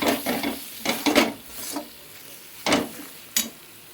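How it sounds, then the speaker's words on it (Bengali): A spatula scrapes and stirs ground cumin, coriander, chili and turmeric in oil in a pan, several sharp scraping strokes at an uneven rhythm over a faint sizzle. "এবার এইটাকে এই মশলাগুলো দিয়ে ভালো করে আবার কষাবো"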